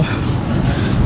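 The Paharika Express from Sreemangal to Sylhet rumbles steadily in a low, continuous drone with faint rattling, close and even throughout, with no speech.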